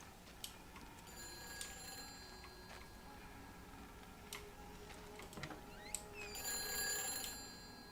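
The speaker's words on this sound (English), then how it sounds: "Let's go answer the phone" An old-style telephone ringing inside the video game Everybody's Gone to the Rapture, faint repeated bell-like rings with clicks and tones over a quiet ambient bed, growing brighter near the end.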